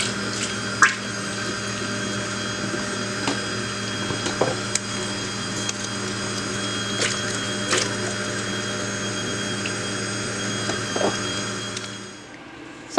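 An electric mixer beats cream with icing sugar for a cake, giving a steady, even whirring hum with faint clicks scattered through it before it winds down at the end.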